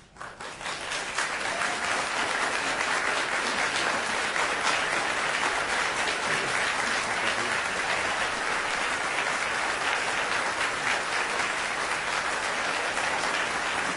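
A crowd at a school board meeting breaks into loud, sustained applause, a dense continuous wash of clapping that swells within the first second and holds steady at full strength without talk.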